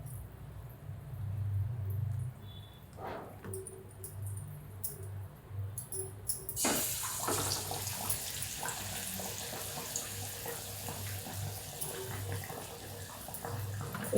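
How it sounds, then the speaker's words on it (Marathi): Potato patties dipped in batter go into hot oil in a pan, and a broad steady sizzle and crackle sets in partway through and continues loudly to the end, preceded by quieter kitchen handling. "आता हे तळून घेते. तेल तापत ठेवले मी,"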